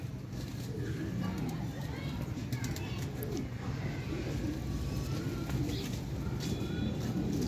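Teddy pigeons coo softly amid steady background noise and faint chirps, with people talking over the low, rolling calls throughout.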